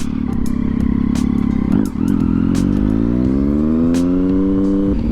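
Close motorcycle engine running loud and steady, the pitch dipping then climbing as the rider rolls off and squeezes the front brake only, with some clattering and ticking over the drone.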